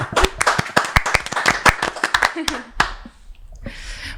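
A small audience claps after a guest is introduced at a talk-show taping; sharp, scattered handclaps ring out close and loud, then thin away as talking takes over.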